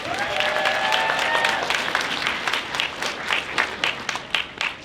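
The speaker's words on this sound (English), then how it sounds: "So round of applause for Kid of Mischief." A crowd at a convention costume contest applauds loudly, steady dense clapping with a few cheers mixed in, the claps becoming more distinct toward the end.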